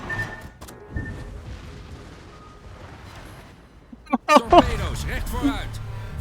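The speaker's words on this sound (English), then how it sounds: "I cover the entire area here with airstrikes now." Airstrike bombs exploding in a naval combat game, a cluster of heavy booms landing close together near the end after a low rumbling stretch, with someone talking over it.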